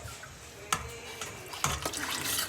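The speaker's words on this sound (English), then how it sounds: "So I'm just going to add a little bit of water." Water is poured into a thick, spicy sausage soup with beans in a pot, giving a soft, steady splashing stream broken by a few sharper clinks, quiet and close.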